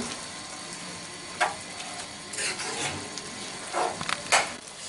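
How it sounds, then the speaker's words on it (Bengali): Beef curry cooked without oil, with lemon juice stirred into it: a soft steady sizzle with a few brief scraping strokes of the spoon, close and fairly quiet, no talking. "একটু নেড়ে লেবুর রস ভালোভাবে মিশিয়ে দিচ্ছি"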